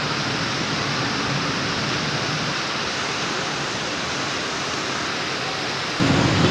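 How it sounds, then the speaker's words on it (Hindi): Heavy rain pours without a break during a flash flood in Karachi, a dense roaring wash that fills the whole stretch and swells slightly louder near the end, with no distinct thunderclap standing out. "बहुत बारिश है"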